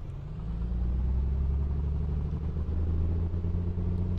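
A Piper Comanche 250 engine in a flight simulator game running up rough, a steady low rumbling drone that swells in the first half second and then holds unevenly, loud and alone.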